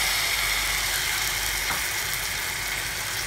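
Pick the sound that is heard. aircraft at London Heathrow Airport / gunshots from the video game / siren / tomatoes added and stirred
tomatoes added and stirred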